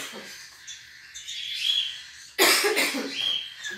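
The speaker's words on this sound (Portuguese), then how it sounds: "Desculpa aí pela tosse. Eu tô resfriada." A woman with a cold gives a sudden, sharp cough midway through, close and loud, following faint bird chirps and squawks in the background.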